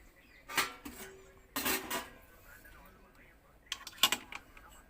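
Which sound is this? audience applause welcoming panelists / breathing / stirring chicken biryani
stirring chicken biryani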